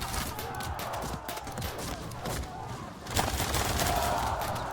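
Gunfire in a turn-based tactics video game, a dense, continuous volley of shots with rumbling low thuds and impacts that swell louder toward the end, with no break in the noisy barrage.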